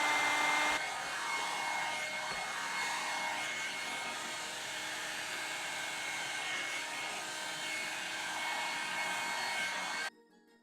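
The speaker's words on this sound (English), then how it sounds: "I'm gonna go in and section off my hair and dry it" A Foxybae blowout dryer brush drying hair blows a loud, steady, airy roar for about ten seconds, then cuts off abruptly, with no talking.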